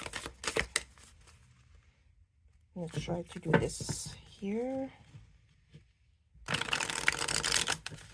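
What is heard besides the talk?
shuffling a 40-card fairy oracle deck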